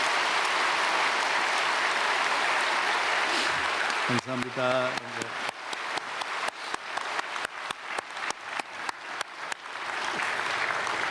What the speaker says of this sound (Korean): 신나게 박수합시다